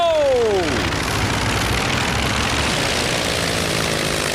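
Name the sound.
cartoon aircraft taking off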